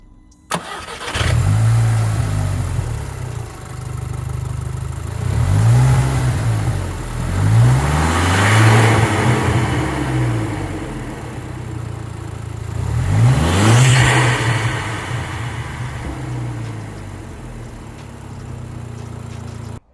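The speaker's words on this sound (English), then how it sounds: "I just realized I didn't film noise of the intake before." A Volkswagen Scirocco engine with a new air intake revs repeatedly, rising and falling in several drawn-out swells with an intake whoosh, then settles back to idle.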